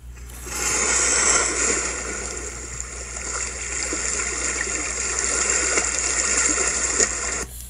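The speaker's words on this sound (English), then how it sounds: "This person made a book just about pure ocean sounds." Pure ocean sounds of water washing and splashing, steady and fairly close, rising after a short silence and running continuously before cutting off abruptly.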